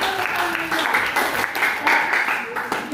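Classroom applause from students after a lesson on applied art, dense clapping mixed with overlapping voices and chatter throughout.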